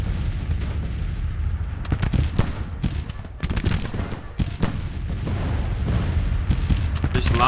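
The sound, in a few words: artillery fire in Grand Tactician: The Civil War video game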